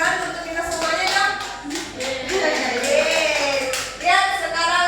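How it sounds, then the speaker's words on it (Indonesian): Children in an online teaching session clap their hands, giving loose, uneven bursts of clapping mixed with a voice and a child's speech, fairly close and moderately loud. "Tepuk tangan untuk kita semuanya dong"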